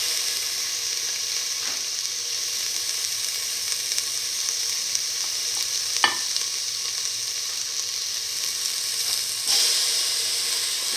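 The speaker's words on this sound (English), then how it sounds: "now put in the tomato pieces." Tomato pieces sizzle steadily in a hot frying pan, a close, continuous hiss and crackle with a few brief scrapes of stirring.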